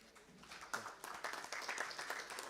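A small audience at a lawyers' conference claps for a chief guest, a faint, uneven patter of scattered hand claps that builds slightly over a couple of seconds.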